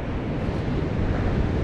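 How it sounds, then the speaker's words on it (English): Steady, loud wind of about 10 to 12 miles an hour roars and buffets across the microphone for the whole moment while sea fishing, with no voices. "There is quite a bit of wind blowing as well."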